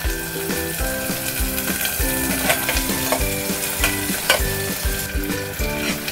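Onion and curry leaves hit a hot mustard-seed tempering for rajma masala, crackling and sizzling steadily alongside a rhythmic background music track.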